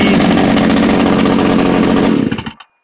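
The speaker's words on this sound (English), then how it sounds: "there's no problem starting this engine" A Staton friction drive solo engine runs loud and steady with a rough, rattling drone in freezing weather, then cuts off abruptly near the end and falls silent.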